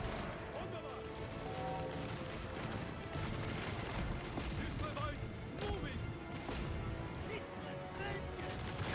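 Kislev Streltsy loosing a gunfire volley in a Total War battle, dense crackling shots layered over a continuous roar of combat, with someone talking over it throughout.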